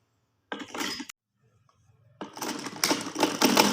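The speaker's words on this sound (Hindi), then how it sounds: "हम यहाँ पे इस तरह रख कर इसकी सिलाई लगाते हैं।" An electric sewing machine stitches trouser belt loops in short bursts: one brief run, a pause, then a longer steady whirring run that builds louder near the microphone.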